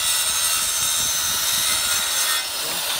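A saw cuts 2-inch PVC pipe into lengths with a continuous, loud, rasping drone that holds steady and then dips slightly near the end.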